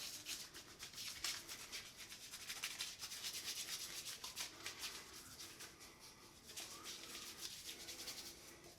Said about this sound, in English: let me hand scrub that a bit